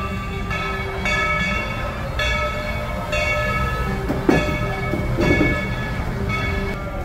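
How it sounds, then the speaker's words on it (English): A train rumbles steadily past behind an outdoor smokehouse restaurant at Dollywood in Pigeon Forge, Tennessee, a continuous low roar with clanking rail noise and a couple of sharp metallic bangs, with no one talking. "You hear the train behind us."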